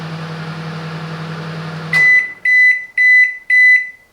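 A Silvercrest SMWC 700 D1 microwave oven hums steadily with a low drone, then falls quiet and sounds four loud, evenly spaced beeps.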